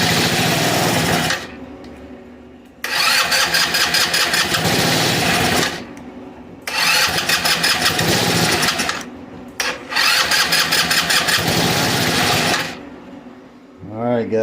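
An abandoned retro-style GY6 scooter engine, neglected for 15 years, fires in three loud buzzing bursts of several seconds each, cutting out between bursts and finally shutting off with a short falling whine.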